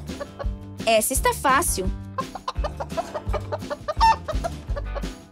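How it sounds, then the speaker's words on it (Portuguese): Chicken clucking close by in a farm setting, a burst of loud rising squawks followed by repeated short clucks, with a person speaking briefly over it. "A galinha, muito bem!"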